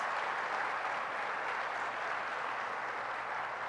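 A crowd at a presidential speech breaks into sustained, even applause, a continuous dense clatter of many hands heard from a distance.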